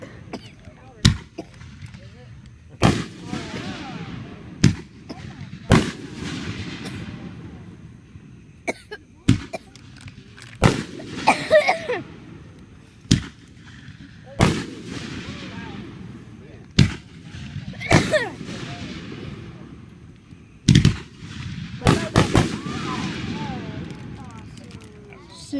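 Fireworks bursting one after another, a dozen or more loud, sharp booms spaced irregularly with decaying rumbles between them, while people talk and call out over the blasts.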